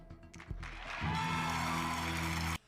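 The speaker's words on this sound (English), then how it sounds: "Why are they applauding?" Applause rises in a steady wash of clapping, preceded by a short thump, then cuts off abruptly after a couple of seconds.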